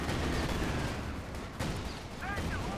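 Dense gunfire and explosions in a Company of Heroes 2 battle involving a Flame Hetzer and Panther tanks, continuous loud crackling shots and booms filling the whole moment.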